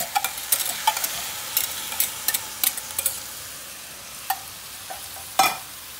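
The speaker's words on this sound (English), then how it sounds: "you're going to cook this until it is thoroughly heated through the noodles and the sauce" Pre-cooked rice noodles stir-fried with a sauce mixture in a pan for pad thai, giving a steady soft sizzle with repeated scraping and tossing clicks from the utensil, heard up close with no talking.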